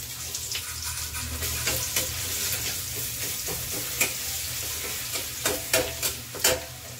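Garlic-ginger paste sizzles steadily in hot oil with mustard seeds and cumin, with sharp utensil taps and scrapes of stirring over the constant frying hiss.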